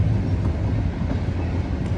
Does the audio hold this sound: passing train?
yes